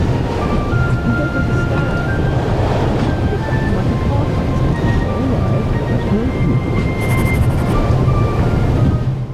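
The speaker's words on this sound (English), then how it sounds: "we are now aboard the train" Inside a moving train in the video game The Raven, a loud, constant rumbling roar with a low hum and faint tonal whines runs steadily throughout, with no break and no talk.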